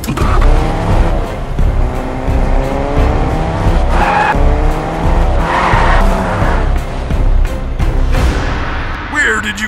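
In a Fortnite short film, a car drives hard with a loud engine roar and long squealing tire skids, while voices talk over it.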